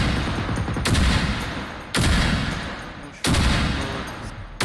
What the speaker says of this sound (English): it's really loud in this warehouse when you shoot